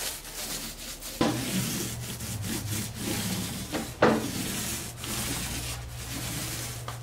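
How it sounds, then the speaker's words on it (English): A 4-inch mini paint roller rolls scuff-resistant wall paint onto a surface in a bare first coat, giving a steady, close soft rubbing swish with two sharper strokes as the roller is pressed on again. "We're going to go ahead and use these 4-inch mini rolls. I think that'll give a pretty good sample of how it rolls on."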